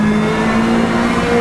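A rally car in Richard Burns Rally is floored on a tarmac surface, its engine droning loud and close with a steady rising tone under hard acceleration.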